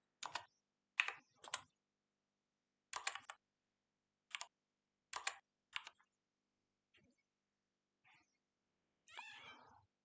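Short bursts of typing on a computer keyboard, clear clustered key clicks separated by pauses in a quiet room, followed by a faint cat meow near the end.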